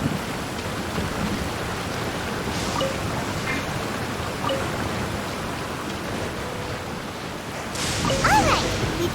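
Steady rain pours in a Genshin Impact thunderstorm, a dense constant wash, with a heavier rumble of thunder rising near the end.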